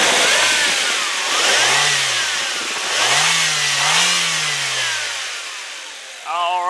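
A 2001 Nissan Altima GLE sedan's 2.4-liter four-cylinder engine is revved up several times, each rev climbing and falling back toward idle, loud and close with no talking.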